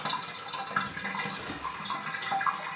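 Water drains out of a plastic tub used for housing hognose snakes, a steady close trickle and gurgle with faint splashes.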